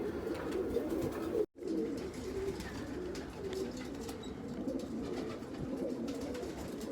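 Pigeons coo in low, repeated throaty calls that carry on throughout, with a momentary cutout near the start and no talking.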